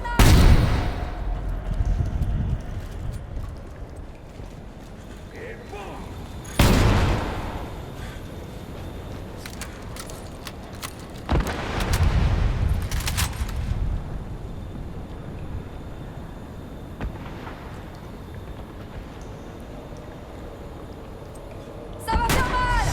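Grenade explosions and bursts of gunfire in the video game Warface, a mission aboard a cruiser: loud booming blasts land at irregular intervals over a constant rumbling background, with a French voice calling out briefly.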